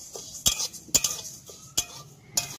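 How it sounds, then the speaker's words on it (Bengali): Mung dal dry-roasting in a pan with no oil, heard as a few sharp metallic scrapes and clinks of a spatula against the pan at irregular intervals over a quiet, faint background. "এই যে শুকনো খোলাতে আমি ডালটা ভেজে নিচ্ছি।"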